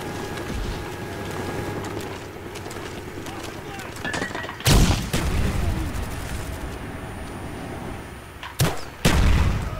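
Grenade launcher explosions from a noob tube in Call of Duty: Black Ops on Xbox One, a loud close blast followed later by two more sharp booms, amid gameplay noise with a voice talking throughout.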